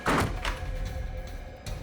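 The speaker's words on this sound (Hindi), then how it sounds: "दरवाजा क्यों बंद किया है?" A door is pushed shut with a solid thunk right at the start, followed by a quieter knock or bump and a faint rattle, in an otherwise hushed room.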